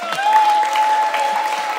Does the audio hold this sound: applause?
yes